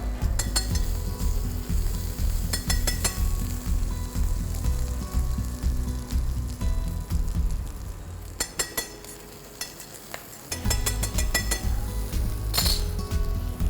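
Water chestnuts sizzle in hot butter and olive oil in a pan, a steady loud frying hiss with occasional clinks of a utensil against the pan and brief stirring pauses.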